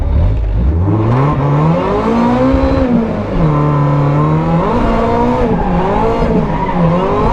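A 1986 Toyota Corolla AE86 drifting with big smoke gives a loud, close engine rev that rises and falls in long sweeping pitch swings, joined by continuous tire squeal and skidding.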